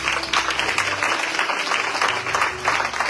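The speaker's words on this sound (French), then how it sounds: "Est-ce qu'on peut acclamer le Seigneur?" Church congregation applauding during a French-language sermon, a dense, steady wash of clapping from a crowd lasting a few seconds without pause.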